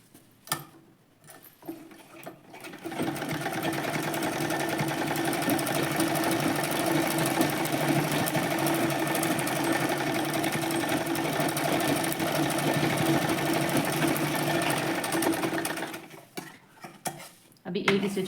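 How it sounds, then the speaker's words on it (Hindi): Sewing machine running a straight stitch close along the edge of lace, a steady continuous mechanical whir held for about thirteen seconds, with brief handling noises at the start and end. "बहुत ही पास से मैं मतलब लेस के पास एकदम सिलाई लगा रही हूँ"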